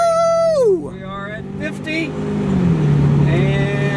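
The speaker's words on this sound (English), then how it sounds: "Let's see what four people in this 2-liter get a little 0-60 action." A 2-liter car carrying four people accelerates from 0 to 60, its engine note dropping through a gear change and then climbing again in a loud, strained, rising drone, with voices talking and cheering over it.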